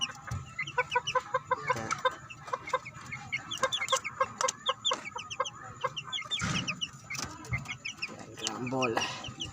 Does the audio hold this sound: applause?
no